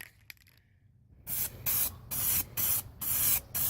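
Spray gun laying a coat onto a 2003 Cadillac CTS driver's quarter body panel during metal prep: after a quiet start, five loud hissing bursts follow in a steady rhythm, each about a third of a second with short gaps, close by and alone.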